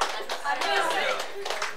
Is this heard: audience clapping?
yes